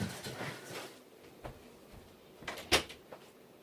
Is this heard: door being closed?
yes